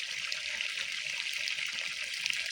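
Groundwater gushing steadily from a solar-powered borehole pump outlet, a continuous close splashing rush with no pauses and no talk.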